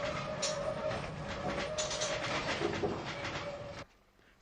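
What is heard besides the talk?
narrow-gauge tram running on tramway to Seaton, Devon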